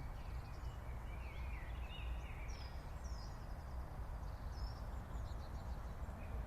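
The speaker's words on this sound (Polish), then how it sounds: "Na pewno słyszycie śpiew ptaszków." Small birds singing outdoors: thin, high chirps and short warbling phrases, faint and somewhat distant, over a steady wash of background noise.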